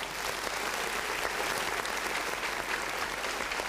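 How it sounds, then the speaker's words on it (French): Audience applause for the children taking part in a French television show, steady dense clapping from a crowd that holds evenly throughout with no talking over it. "Est-ce qu'on peut les applaudir, s'il vous plaît?"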